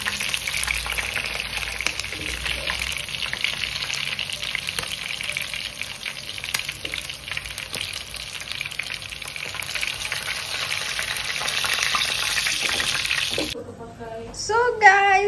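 Chicken (ayam goreng) frying in a pan, a steady dense sizzle with stirring that runs loud and continuous almost to the end, then cuts off as a voice briefly speaks.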